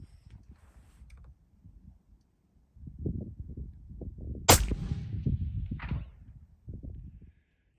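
A single sharp rifle shot cracks out at a cowboy target 368 yards away, a loud broadband burst standing out over low rumbling wind and handling noise, followed by a fainter echo or impact about a second later.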